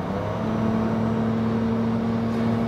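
A 2023 Nissan X-Trail e-Power hybrid driven flat out at about 80 km/h, with a steady, loud electric whine and road rumble rising evenly for a few seconds and no voices.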